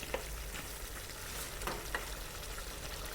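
Chicken curry cooked Assamese style, stirred in a pot over a soft continuous sizzle with a few light scrapes of the spoon, fairly quiet throughout.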